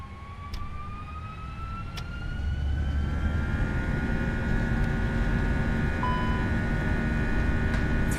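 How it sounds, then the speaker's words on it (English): An Airbus A320 roars up to takeoff thrust in the Prepar3D flight simulator, leaving Nuremberg on runway 28 as a Wizz Air departure. A steady jet rumble builds in loudness while a rising engine whine sweeps upward over it. "See, these do sound pretty good, these engines."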